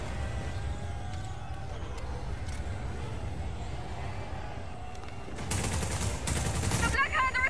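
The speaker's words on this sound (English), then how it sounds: "Engaging cannons. Now. Wing cannons online." Steady rumbling battle noise gives way to rapid bursts of heavy wing cannon fire in Just Cause 4, loud and rattling near the end.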